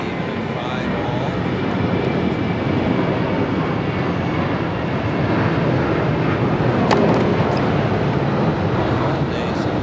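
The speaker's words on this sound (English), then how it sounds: "try to be serving exactly when the plane was coming overhead" A jet airplane roars overhead during a tennis match at the 2008 US Open, a loud steady engine rumble filling the whole stretch with no break.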